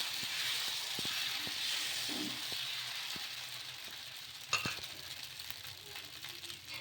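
Tomato dosa batter spread on a hot pan sizzles as a steady, soft hiss, with light taps and clinks of the utensil and one sharper clatter partway through.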